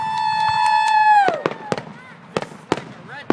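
Canada Day fireworks in Espanola, Ontario: a rising whistle followed by a series of sharp, loud bangs and crackles at irregular intervals, fairly close outdoors, with people's voices faintly in the background.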